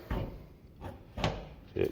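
A Chevrolet squarebody truck door, with the striker in place during floor and rocker panel repair, swings shut against the striker several times, producing soft, dull thuds spaced about half a second apart at close range.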